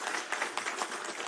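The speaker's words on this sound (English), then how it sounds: "I think that deserves a big round of applause" Applause from an audience at the inauguration of a Eurofins BioPharma Services campus in Genome Valley, India: a short, steady burst of clapping, fairly soft and even throughout.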